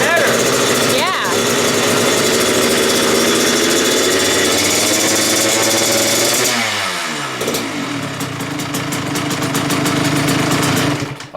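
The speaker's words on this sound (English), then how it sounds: "Okay, so when the engine revs up, I think it makes enough power" A small engine in a street-legal super mini build revs hard and steady, droning loud and close for most of the stretch before easing off and picking up again near the end, with people talking over it.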